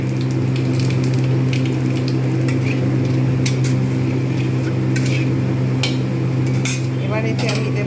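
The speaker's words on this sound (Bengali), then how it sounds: "এর মধ্যে যে তেলটা রয়েছে এতে কালো জিরে ফোড়ন দিয়ে দিলাম" Nigella seeds dropped into hot oil left over from frying rui fish give a loud, steady sizzle under a constant low hum, with scattered sharp crackles and utensil clinks throughout.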